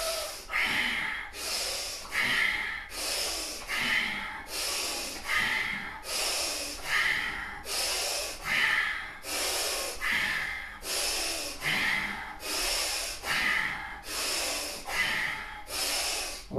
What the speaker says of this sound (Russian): кузнечные меха, дыхание, вдох, выдох, вдох, выдох.